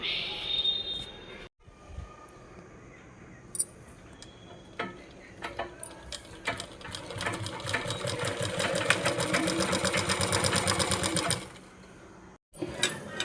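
A home sewing machine stitching fabric: after a short pause it starts up with scattered clicks, then runs in a fast, rhythmic mechanical rattle for several seconds before stopping abruptly, with a brief restart at the end.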